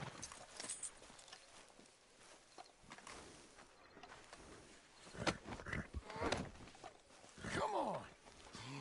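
Horse hooves clip-clop in the video game Red Dead Redemption 2, irregular soft thuds over a quiet background, with a few louder steps and faint game sounds toward the end.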